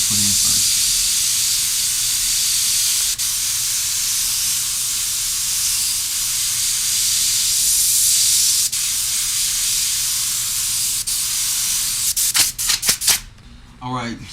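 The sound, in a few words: airbrush spraying paint on a portrait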